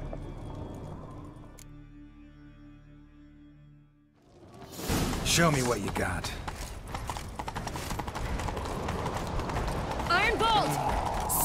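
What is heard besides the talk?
horse galloping hooves in video game The Witcher 3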